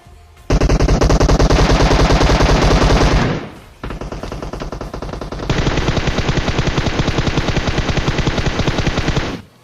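Automatic gunfire rattles in a Season 14 battle royale video game match, loud rapid bursts that run for several seconds, pause briefly, then resume in a long sustained stream.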